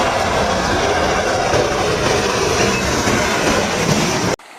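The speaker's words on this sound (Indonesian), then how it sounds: "Ini ada kereta api." A toy train gives a steady, loud rolling rumble with a rhythmic rail-like clatter, running evenly before cutting off abruptly just before the end.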